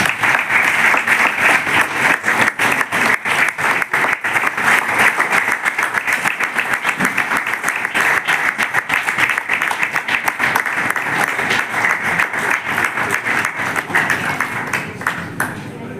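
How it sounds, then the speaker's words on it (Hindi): Large audience at a UPSC student event gives loud, sustained applause, a dense continuous roar of many hands clapping close by, fading slightly near the end. "जोरदार तालियां इनके लिए।"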